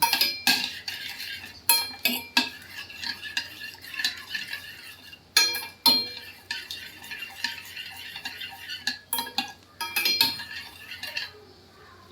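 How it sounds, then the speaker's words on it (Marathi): Repeated metallic scraping and clinking of a spoon stirring ginger tea in a pot, coming in short bursts separated by quiet gaps. "ते पण आपण छान असं ढवळून घ्यायचं"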